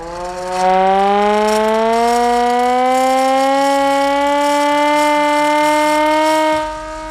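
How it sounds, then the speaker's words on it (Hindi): An old British-era hand-cranked civil defense siren in Lahore winds up into a loud, steady wail, its pitch rising slowly and holding, then cutting off near the end. "ये जो अपना सिविल डिफेंस का जवान है ये आपको बजा कर दिखाएगा ये सायरन।"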